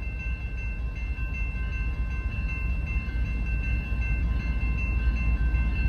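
Amtrak train horns hold steady, sustained tones over the continuous low rumble of a train, sounding moderately distant with no pauses.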